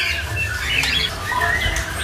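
Bright, warbling white-rumped shama song with quick trills and squeaky notes, fairly close, over a steady low background hum.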